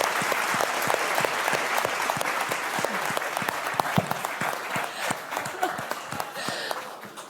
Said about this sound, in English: Huge round of applause for Professor Madhvi Lata.